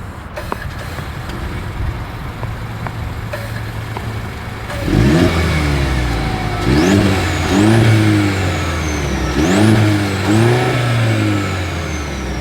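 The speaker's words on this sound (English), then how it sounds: "As always, here is that exhaust clip." A 2024 Mercedes-Benz GLC 300 Coupe idles with a low steady exhaust note, then revs sharply several times, each blip rising and falling loud and close, with no talk.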